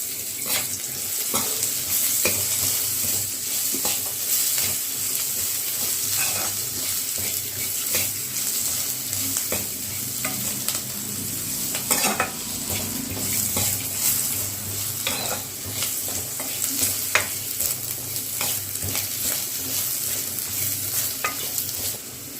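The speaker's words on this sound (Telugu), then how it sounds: "నెక్స్ట్ చెక్క, లవంగాలు, యాలకులు యాడ్ చేసుకొని ఫ్రై చేసుకోవాలి." Cinnamon, cloves and cardamom frying in a pan, a continuous close sizzle with frequent sharp stirring clicks and scrapes, no voices.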